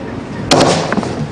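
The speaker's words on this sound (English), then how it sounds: "Gunfire came from inside the base." Gunfire from inside a Ukrainian army base: one sharp double crack lands mid-clip over a steady background hum, followed by a few fainter reports.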